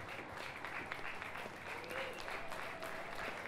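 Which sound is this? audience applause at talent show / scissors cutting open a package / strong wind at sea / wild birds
audience applause at talent show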